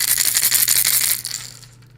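A loose rattle inside a 6th Sense Super 6 crankbait fishing lure with an L-shaped bill, shaken close up in a quick burst of bright clicking that fades out after a second and a half.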